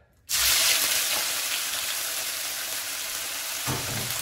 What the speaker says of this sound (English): we're going to be adding the shrimp that we seasoned with salt and red chili powder. So I'm going to add that.